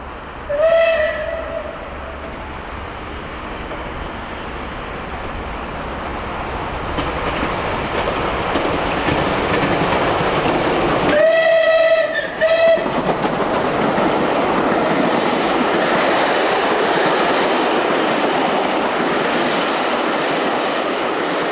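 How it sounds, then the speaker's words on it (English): Southern Railway steam locomotive Clan Line 35028 hurries south through Eastleigh Station on a sunny Sunday, a loud sustained rush of wheels and rail clatter with a brief whistle near the start and a sharp double whistle blast midway. "Clan Line comes hurrying south through Eastleigh Station on a sunny Sunday"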